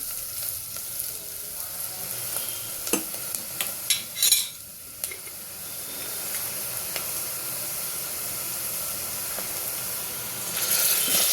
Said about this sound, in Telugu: ఉల్లిగడ్డ వేగిన తర్వాత చిన్న చెంచా పసుపు వేసి కలుపుకోవాలి.